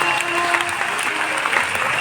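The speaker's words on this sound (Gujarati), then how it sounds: "અમે તાળીથી વધાવ્યા." Devotees at a Ram Katha recitation clapping together in steady, dense applause, with a faint sustained tone beneath and light speech.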